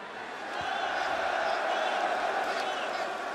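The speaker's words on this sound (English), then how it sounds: "They go from chanting, shut the F up, to cheering when I say I'm going to walk away" A large crowd at a wrestling event roars and cheers in a continuous loud wash, the noise swelling and then holding steady, with scattered whoops and claps inside it.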